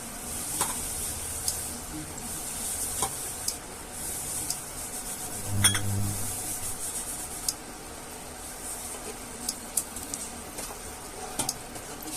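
Okra frying in a pan for a Bengali bhindi posto dish, stirred with a soft rubbing, scraping rhythm over a low steady sizzle, with a few brief clicks of utensil on pan and no talk.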